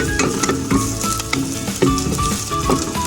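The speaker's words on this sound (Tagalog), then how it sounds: "simulan na natin ang pagigisa. Meron tayong nilagay na konti lang na mantika para lang magisa ng kaunti yung ating spices" Spices and ginger sautéing in a small amount of oil for a Filipino mussel soup, a steady close sizzle with frequent scraping clinks of a utensil against the pan, no voices.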